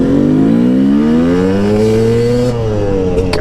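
Yamaha YZ250 two-stroke dirt bike, freshly rebuilt and being broken in, revs hard through its gears. The loud, close, buzzing engine note climbs and then drops at each shift, steady throughout with no talk.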